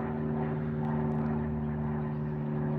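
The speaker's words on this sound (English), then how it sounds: "The shuttle, the airplane passed overhead." An airplane passing overhead above the San Joaquin River area, heard as a steady, moderately loud engine drone with a constant tonal hum throughout, and no one talking.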